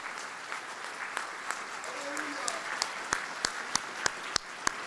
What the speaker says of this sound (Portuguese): Podemos aplaudir ao Senhor?